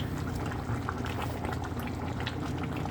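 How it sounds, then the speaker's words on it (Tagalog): A pot of sardines and udon noodles boils vigorously, a close, steady bubbling and gurgling with no voices. "Gumukulo na."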